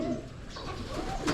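Pigeons coo softly and continuously in a pigeon fancier's hen section in San Pablo City, the Philippines, their low, throaty murmurs heard close.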